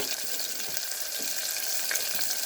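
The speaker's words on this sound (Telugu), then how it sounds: "ఆనియన్ ముక్కలు కూడా వేయాలన్నమాట ఉల్లిపాయ ముక్కలు కూడా వేసి" Onion pieces fry in oil for tomato rasam, producing an even, close hissing sizzle with light crackles and no speech.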